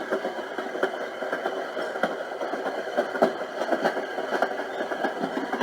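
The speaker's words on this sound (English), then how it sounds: "Inside train." Inside-a-train soundscape from a portable nursery white noise machine: a steady rumbling rail hum with regular faint clicks and knocks, continuous and even throughout with no voices.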